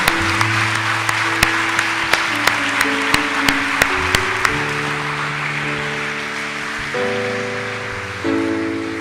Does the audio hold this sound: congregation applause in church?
yes